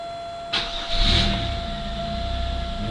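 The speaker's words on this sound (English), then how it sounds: "She started right up." A 2000 Pontiac Grand Am GT engine, newly replaced, cranks briefly and catches, then settles into a steady idle rumble, close by and moderately loud.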